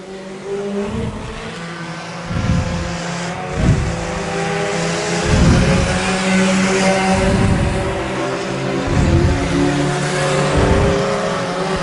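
Dirt-track race cars on the final lap at Double X Speedway roar past in repeated waves, engines revving and fading as each car sweeps by, loud and close over a constant background drone.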